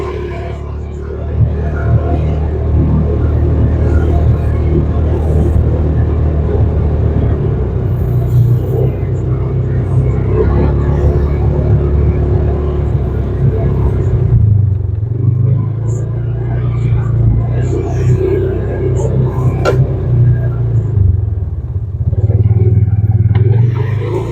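A 2015 Polaris Ranger 570 side-by-side driving in two-wheel drive, its engine rumbling loud and close with shifting revs, while people talk over it.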